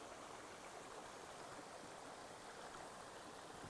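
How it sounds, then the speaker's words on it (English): A mountain stream flows steadily as a constant, broadband rush of water, close and even throughout with no other sounds. "I love the sound of the mountain stream."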